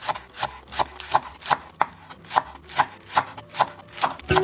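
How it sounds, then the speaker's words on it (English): A knife slices the white part of leeks thinly on a cutting board, ten or so steady, evenly spaced chops close by with no talking. "Grab the white part and slice it thinly."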